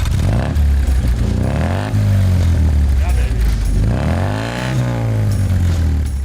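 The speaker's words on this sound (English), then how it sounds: "it's got a nice exhaust." A Triumph TR4's exhaust held near 3,000 RPM, a steady loud low drone that swells and rises in pitch twice, loud and close throughout.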